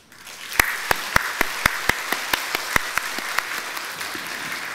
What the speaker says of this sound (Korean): 여러분 다 같이 격려의 박수를 해주시기